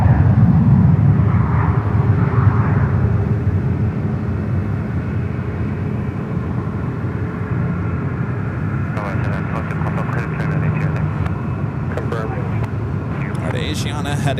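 A United airliner rolls on runway 1 right at San Francisco International, its broad engine roar holding steady and loud throughout, with faint higher whines and clicks near the end.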